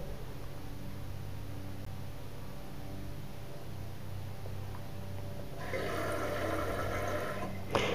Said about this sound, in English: what that sound was, is it was replacing the water that's leaked out of the tank